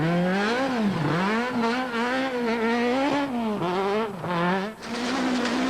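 A front-wheel drive VW Golf rally car on a wet stage, its engine revving hard and continuously, pitch rising and dipping through gear changes and throttle lifts, loud and close throughout.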